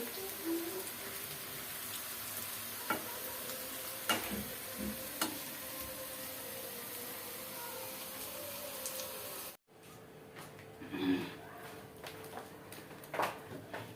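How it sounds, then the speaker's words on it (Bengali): Cauliflower fritters frying in hot oil make a quiet, continuous sizzle with scattered sharp ticks and spatula taps, briefly cut off midway before resuming just as faint. "বাঁধাকপির বড়া ভাজা শেষ, এখন ফুলকপির বড়া।"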